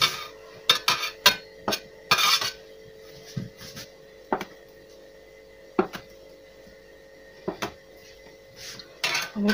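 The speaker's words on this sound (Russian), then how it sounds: "Нарезаем на полоски" Knife cutting sugar-topped sour cream cookie dough into 3 cm strips, heard as a series of sharp separate clicks and taps of the blade against the board, fairly close, with a short scrape and longer gaps between strokes.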